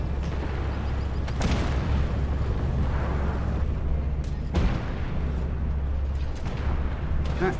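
Tank cannon strikes in the armored combat game Armored Warfare, from an Armata T-14 152 on hardcore mode: several booming impacts over a continuous low rumble of engine and battle noise, with no voices.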